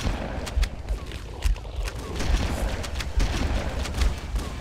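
Shotgun blasts in Halo: Combat Evolved, several sharp booming shots at irregular intervals amid chaotic gunfire and explosions, moderately loud in a busy firefight.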